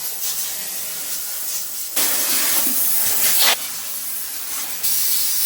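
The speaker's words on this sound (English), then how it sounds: "I'm going to steam the floor with it" A steam mop hisses across a hard floor in loud bursts of spraying steam, separated by quieter stretches of steady hiss, close by with no talk.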